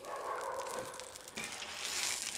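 Clarified butter sizzles on a Blackstone griddle set to low heat under a Monte Carlo sandwich, a soft, steady crackling hiss that swells briefly partway through with no talking.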